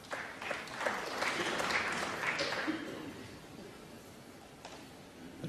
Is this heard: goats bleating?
no